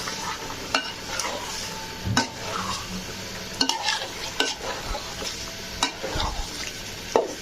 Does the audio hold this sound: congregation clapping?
no